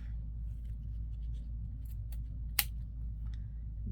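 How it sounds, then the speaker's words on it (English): Scissors trim excess paper from a junk journal page with a few soft snips and one sharp, distinct cut standing out against a quiet low room hum. "let's trim the excess off"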